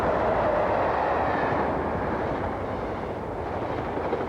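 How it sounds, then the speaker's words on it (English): An intercity express train rumbles through Crewe station at about 80 miles an hour without stopping, a steady roar that fades slightly toward the end, with no voices. "many an intercity express does not even condescend to stop at Crewe. They rush through at 80 miles an hour"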